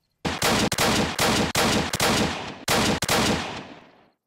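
Loud, close bursts of gunfire from a shotgun and other weapons in the Roblox survival game Apocalypse Rising, four or five dense blasts in quick succession, each cut off sharply, with the last one trailing away.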